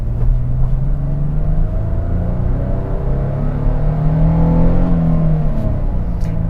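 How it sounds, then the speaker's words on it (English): 2022 Nissan Frontier pickup with a 310-horsepower naturally aspirated V6 accelerating, giving a steady, loud engine drone with a gradually rising pitch heard from inside the cab. "We've got 310 horsepower from our naturally aspirated V6."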